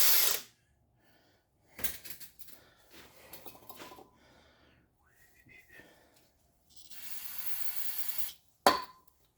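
Aerosol brake cleaner sprayed onto the front brake caliper pins of a 2007 Ford Focus: a short hissing burst at the start and a longer, steady spray near the end, among scattered metallic tool clinks.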